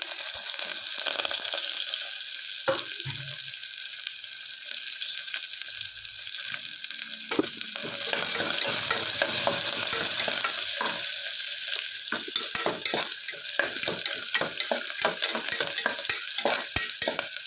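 Garlic, onion and curry leaves fry in oil inside a pressure cooker, a steady crackling sizzle running throughout with occasional stirring scrapes and clinks, louder toward the end.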